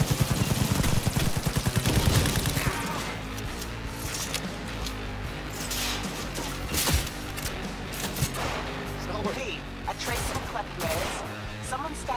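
Rapid automatic gunfire in Cyberpunk 2077 rattles loud and close in a dense burst at the start. Scattered shots, impacts and game effects follow underneath.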